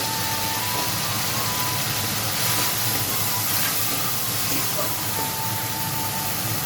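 Ground cumin, coriander, Kashmiri chilli and hot chilli powders sizzle in hot oil in a pan for fish curry, giving a loud, constant hiss with a faint voice underneath.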